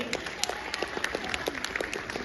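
Audience applause at a school annual function after a nonviolence-themed performance, dense sharp handclaps in a steady flurry with scattered louder claps, moderately close.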